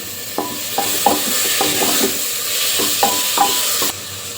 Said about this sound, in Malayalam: ഇനി ഇതിലേക്ക് ഒരു തക്കാളി കഷ്ണങ്ങളാക്കിയതോടെ ചേർത്ത് ഇളക്കി കൊടുക്കാം